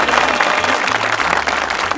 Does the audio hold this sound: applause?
yes